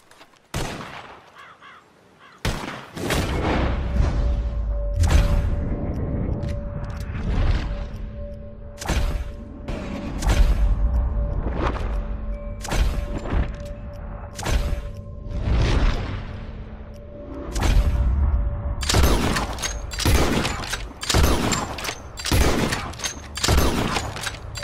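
Rapid gunshots in a sharpshooting video game as players fire at birds flying out of cover, a long string of sharp, loud, close cracks with short gaps between them, over a steady background tone.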